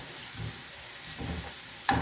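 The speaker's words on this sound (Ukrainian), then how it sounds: "Обсмажую на середньому вогні приблизно 5-7 хвилин" Steady sizzling of diced vegetables frying in a pan over medium heat, with soft scraping stirs and a brief clink near the end.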